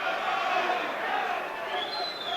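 Boxing arena crowd roaring in a steady, dense wash of cheering and shouting that holds loud and continuous throughout, without any individual voice standing out.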